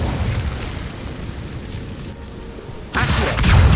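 A fiery Incendio spell bursts out in the Hogwarts Legacy video game, a booming whoosh of flame that swells loud near the end, with no talk over it.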